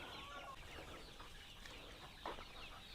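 Pure native country chickens, young two-month-old birds, cluck softly on a poultry farm, very faint and distant against a low background hiss, with one brief louder call near the end.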